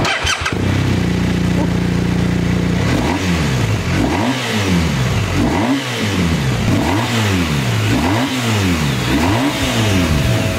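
A BMW R1250 RS motorcycle engine starts, idles briefly, then is revved repeatedly in rising and falling swells, loud and close.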